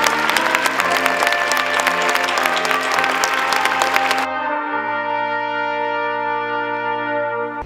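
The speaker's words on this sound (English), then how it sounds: "I'd like you to please join me in giving a round of applause to our veterans who are here with us today." Audience applause for veterans at a university gathering, a dense, loud burst of clapping for about four seconds that then gives way to sustained music.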